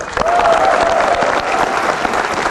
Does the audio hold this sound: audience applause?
yes